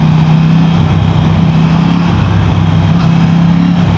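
KTM 890 SMT motorcycle engine, a parallel twin shared with the 890 Duke R, droning steadily and loudly at constant revs while riding, heard up close from onboard with no talk.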